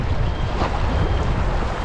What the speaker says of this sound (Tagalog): kung hindi sana malakas yung hangin eh